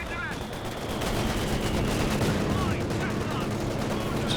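Rapid machine-gun fire from an aircraft strafing run in the video game Company of Heroes 2, a dense, continuous rattle of bursts lasting several seconds over a steady battlefield din.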